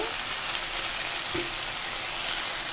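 Tilapia fish curry sautés in refined and mustard oil, a steady, dense hiss of frying close by with one soft knock midway, continuous and even throughout.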